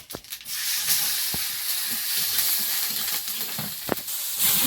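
Nigella seeds and chopped garlic fry in hot oil in a kadai just after fish has been fried in it. A loud, steady sizzle carries scattered crackles and pops throughout, with no voices.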